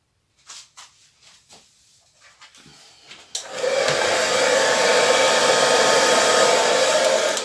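A few soft knocks and rustles, then a hair dryer switches on and blows with a loud, steady whoosh until the end.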